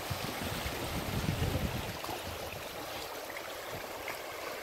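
Rough river water rushes and churns around people tubing downriver, a steady, loud, dense roar of turbulent water with no voices.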